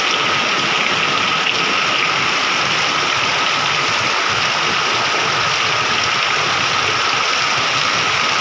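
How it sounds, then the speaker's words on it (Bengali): Rain falling steadily outside on a rainy day, a loud, dense, unbroken hiss and roar that stays even from start to finish, with no voices. "কিভাবে বৃষ্টি পড়তেছে।"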